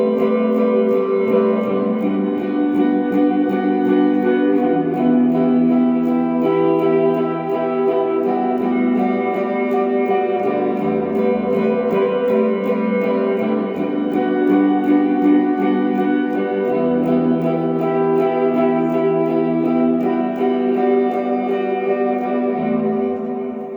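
Sustained electric guitar chords in a shoegaze style ring out loud and steady, washed in reverb and echoing delay, with no talking.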